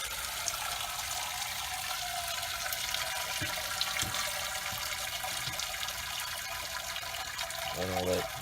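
Wort drains and trickles steadily out of a lifted grain bucket during a homebrew batch of beer, making a continuous close splashing and dribbling of liquid that runs throughout with no talking.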